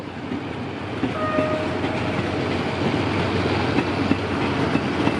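An Alsthom diesel locomotive, No. 4144, rumbles steadily past at the Bang Sue curve, close and loud, with a continuous engine drone and rolling wheel noise throughout.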